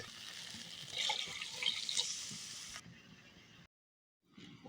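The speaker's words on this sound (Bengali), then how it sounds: "এখন পানি দিয়ে দেবো।" Water runs and splashes into a pan of cooked-down spice paste for a potato, onion and green chili curry, pouring for a few seconds close by, then dropping to near silence before a faint trickle resumes.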